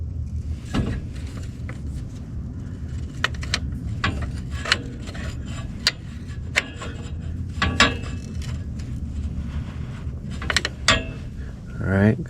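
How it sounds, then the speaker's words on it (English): Lock nut being tightened on a TCI C6 transmission shift lever, close irregular ratcheting clicks and scraping metal rubs spread across the stretch. "And then tighten up the lock nut."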